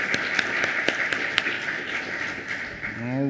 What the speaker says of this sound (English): I'm going to give her a round of applause because she deserves it